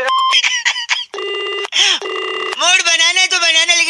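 Telephone keypad tones beep in quick succession for a prank call, each short and close. Steady buzzing line tones and a chirpy squeak follow. Busy, loud and without speech.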